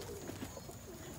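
Almond muki pigeons coo softly in a few low, rounded murmurs, faint against quiet background noise.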